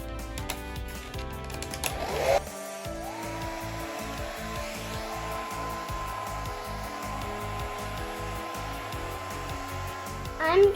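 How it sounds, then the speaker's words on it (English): A hair dryer blows steadily across drying craft water beads, a continuous close whir with a click as it switches on and a brief rattle at the end. "I'm going to use a hair dryer to dry it."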